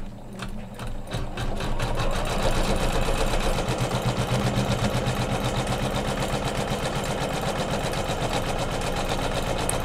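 A Kimberbell embroidery machine stitches out a line on a quilted pillow flange, a rapid, steady mechanical chatter that starts up after a brief pause and runs evenly at close range.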